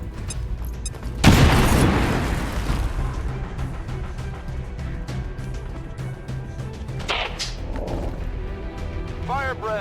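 A grenade in XCOM 2 bursts in one loud, close boom followed by a long rumbling decay, with battle sounds and talk scattered around it.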